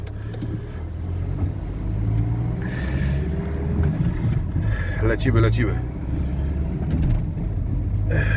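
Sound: car driving

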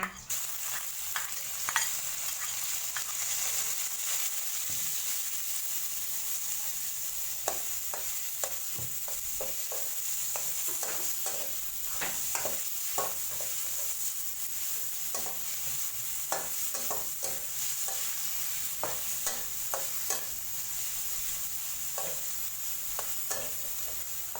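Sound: pork stir-fried with golden garlic for macaroni

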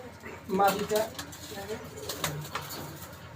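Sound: imported Teddy pigeons cooing in a loft

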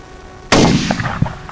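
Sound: gunshot at a groundhog during a hunt

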